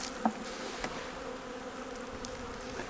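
Steady, faint buzzing of many honey bees swarming around a hive nearby, a continuous drone with occasional soft knocks and clicks.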